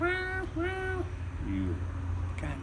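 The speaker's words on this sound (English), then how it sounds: "the cat came all the way back here, downstairs again, yelling at the other cats" A cat yowls in long, drawn-out wails at other cats, several cries in a row at close range over a steady low background hum.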